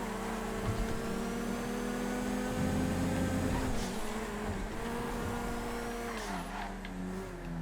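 Race car engine in a GTA FiveM driving game lap, a steady loud whine with pitch dips and rises through corners and shifts, plus faint tire noise, no talking.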